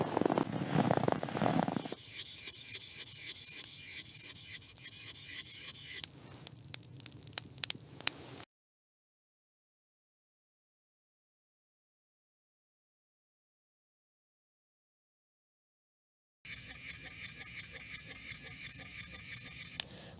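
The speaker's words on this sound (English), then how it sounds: "He begins to walk, pulling the sled." A sled is dragged over snow by someone walking at a winter bushcraft camp, giving a rough rasping scrape in repeated strokes, close by, broken by a long silence partway through before the scraping resumes.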